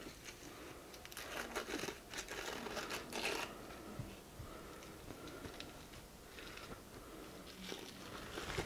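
Packing paper crumples and crinkles in bursts during the unboxing of a Sky-Watcher EQ6-R telescope mount, with rustling handling noises close by, at a low level and without speech.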